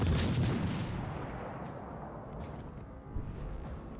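Warship main guns firing in a naval battle game, a deep booming blast at the start fading into a rumbling tail, followed by a fainter distant thump.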